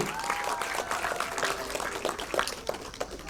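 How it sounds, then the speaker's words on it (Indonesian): An audience at the fourth anniversary celebration of Share Edu Indonesia applauds in a steady, dense round of clapping, with a faint tonal sound drifting underneath. "Tepuk tangan sekali lagi"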